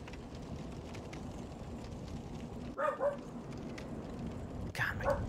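A pet dog barks twice at a distance, short separated yaps over a steady background hiss.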